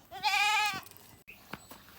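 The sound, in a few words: goat bleating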